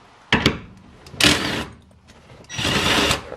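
A cordless impact wrench removes a 12 mm bolt from a Toyota Supra tailgate in three separate bursts of loud whirring and rattling, each lasting under a second, with quiet pauses between.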